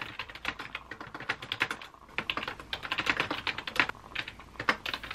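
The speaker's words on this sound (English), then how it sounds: "I'll just let the typing sounds occupy your ear holes." Rapid typing on a computer keyboard, with steady clusters of close, crisp key clicks and occasional louder strokes running throughout with no talking.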